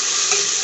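Tomatoes sizzling loudly in hot oil while being stirred for biryani, a dense steady hiss close up and without talk.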